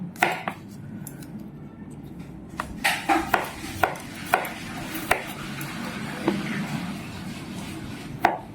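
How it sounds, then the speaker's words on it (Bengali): A knife slices garlic cloves on a cutting board, with irregular crisp taps that cluster in quick bursts over a quiet kitchen background. "আর পাশে একটু গার্লিকটা স্লাইস করে নিই।"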